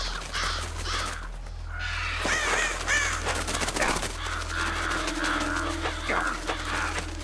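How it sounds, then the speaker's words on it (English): Crows caw repeatedly in Metal Gear Solid The Twin Snakes, sharp harsh calls rising over a steady low game hum and scattered clatter through the middle of the scene. "Damn birds!"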